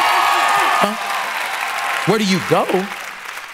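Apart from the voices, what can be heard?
applause, hand clapping for a sister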